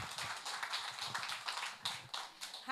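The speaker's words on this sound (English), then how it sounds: "A hand clap for her." Hand clapping from an audience at a bank branch gathering in Kampala, steady moderately faint claps spread across the whole stretch with no talking over it.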